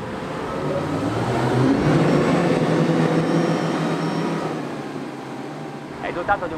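A Mercury Racing 450R outboard with a 2.04-litre supercharger roars steadily on a racing boat, its loud drone swelling and holding as it accelerates, then easing off near the end.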